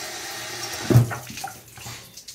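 Water runs briefly through temporary plastic tubes on an AC unit being converted to water cooling. A soft, steady trickle rises to a short gush near the middle, then settles back.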